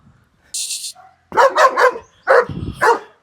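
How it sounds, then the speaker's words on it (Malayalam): A male German Shepherd barks loudly nearby, a quick run of deep barks followed by a second short burst after a brief pause. "German ഷെപ്പേർഡിന്റെ mail dog"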